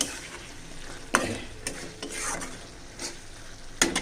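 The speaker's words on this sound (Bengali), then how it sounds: "তো এখানে আমি একটু বাইম মাছ ভুনা করে নিব" Baim eel pieces being cooked down as bhuna in a pan, with a continuous sizzle broken by several sharp scraping strokes of a spatula.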